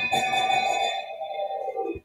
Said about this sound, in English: that is the sound of a very active cat